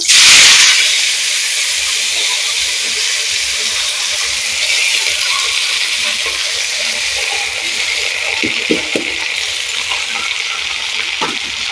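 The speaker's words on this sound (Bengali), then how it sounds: "এই তেলের ওপরে আমি এই শাকটা দিয়ে দেবো" Greens (shak) hitting hot oil in a pan with a sharp loud burst of sizzle, then a steady hissing fry that continues alone with small spatters and stirring clicks.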